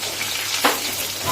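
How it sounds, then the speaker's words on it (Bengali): Catla fish rubbed with salt and turmeric frying in a pan, a steady close sizzle with one brief sharper crackle partway through, no voices. "কাতলা মাছটা যে ভাজা বসিয়েছি,"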